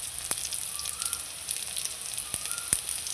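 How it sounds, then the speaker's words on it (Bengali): Kochur loti (taro stolons) fry in oil with salt and turmeric, giving a soft, steady sizzle close by with a few faint pops and crackles and no voices. "লবণ হলুদ দিয়ে আমি কিছু টাইমের জন্য ভেজে নিলাম।"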